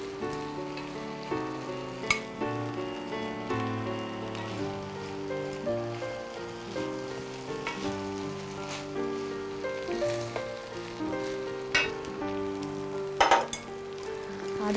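Sausage fried rice being stirred together with cooked rice in a hot pan, giving a steady, rain-like sizzle and occasional scrapes throughout, partly under background music.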